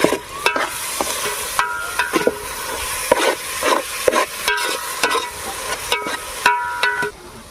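Mutton frying in a pan for village-style tribal mutton raba, a loud close sizzle broken by repeated stirring scrapes and clanks of a utensil against the pan.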